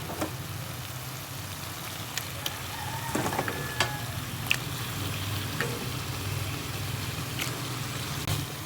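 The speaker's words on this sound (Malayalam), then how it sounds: "ഇതിലേക്ക് നമുക്ക് കഴുകി വെച്ച ചിക്കനും കൂടി ചേർത്ത് കൊടുക്കുന്നുണ്ട്." Washed chicken hits a hot pan with Kashmiri chilli and fries in a steady, close sizzle, with a few sharp clicks and stirring scrapes over the continuous crackle.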